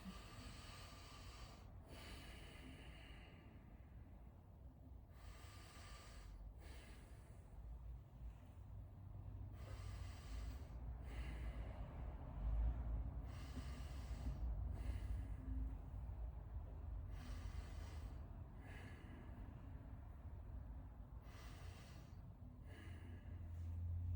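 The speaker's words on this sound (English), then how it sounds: "Take a couple deep breaths." A patient sitting up for a chest exam takes several slow, deep breaths through a quiet, airy background, each inhale and exhale soft and faint with no talking.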